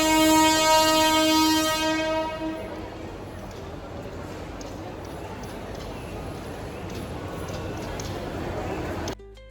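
A passenger train's horn blares loudly for about two seconds, then gives way to a steady rumble of rolling carriages that carries on until an abrupt cut near the end.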